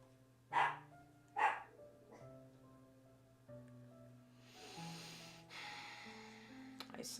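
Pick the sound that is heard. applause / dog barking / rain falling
dog barking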